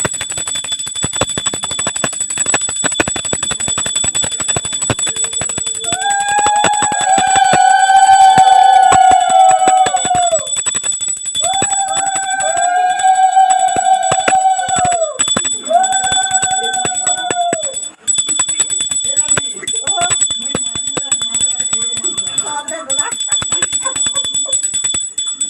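A bell rings repeatedly during puja worship, with sustained bright tones in bursts over a steady high-pitched ringing background, loud and continuous, with faint voices briefly underneath.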